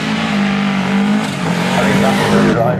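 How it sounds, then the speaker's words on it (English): A 1981 RAC rally car driven hard on a live rally stage at a show, its engine roaring loud and close with shifting revs and a hint of tire noise. "it was the 1981 RAC rally car driven by Malcolm Wilson."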